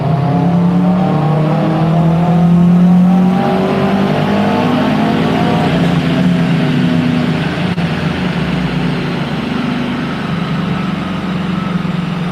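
Car engine on a dyno during a pull started at too low an RPM, loud and close, a steady droning roar with rising harmonic pitch as revs climb, no talk.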